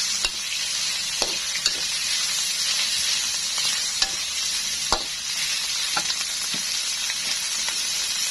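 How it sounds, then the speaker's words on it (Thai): Pork stir-fries with red curry paste in a pan, giving a continuous loud sizzle and hiss with small scraping clicks from the stirring spatula, close up and with no talking. "ผัดให้ น้ำพริกแกงซึมเข้าไปในหมูเลยค่ะ ให้รู้สึกว่าเออกลิ่นหอมแล้ว ผัดให้ทั่วเลยนะคะ"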